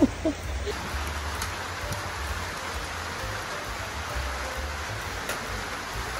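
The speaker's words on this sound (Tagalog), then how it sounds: "Still raining guys. It's raining man." Rain falling outdoors at an adventure park in Manolo Fortich, Bukidnon, a steady even hiss of drops on surfaces with faint voices in the background.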